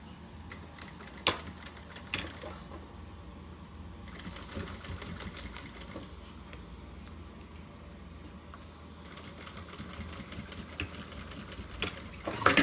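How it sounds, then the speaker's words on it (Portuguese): Sewing machine running a straight seam on fabric for a unicorn pencil case, a steady close mechanical whir with rhythmic needle ticking that pauses briefly and restarts, a few sharper clicks, and no talking. "E passo uma costurinha pé de máquina aqui."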